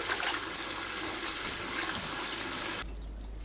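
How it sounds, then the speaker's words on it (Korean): Cold water runs and splashes steadily while blanched young radish greens are rinsed, a close continuous gush that cuts off abruptly near the end. "데친 열무를 찬물에 헹굽니다"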